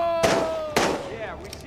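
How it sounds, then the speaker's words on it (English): Two sharp gunshots ring out in Days Gone, about half a second apart, each leaving a ringing tail over a steady tone and background noise. "Stop shooting!"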